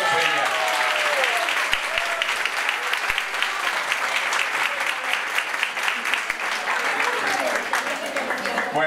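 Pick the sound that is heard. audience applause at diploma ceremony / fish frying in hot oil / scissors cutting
audience applause at diploma ceremony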